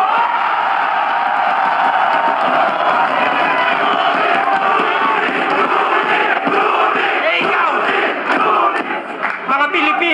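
A dense crowd at a Filipino rap battle roars and shouts continuously, loud and close, with overlapping cheers and yells holding steady for about ten seconds.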